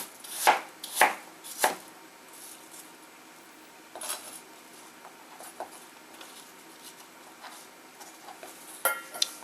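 A knife chops food into chunks on a board for Moroccan chicken wings, with three quick sharp cuts near the start and then sparser, softer taps against quiet kitchen background.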